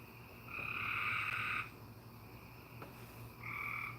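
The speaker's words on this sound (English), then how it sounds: "Yeah, the frogs." Loud frog chorus at night, two long bursts of croaking calls, the first lasting about a second and another starting near the end, over a steady low background hum.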